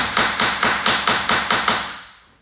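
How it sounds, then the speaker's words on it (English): A socket is tapped repeatedly onto a dirt-, grime- and underseal-covered heel board bolt on a classic Mini, eight sharp metallic knocks in an even rhythm, close and loud, with a ringing tail fading after the last hit. "only having to tap it on because obviously it's covered up in dirt, grime"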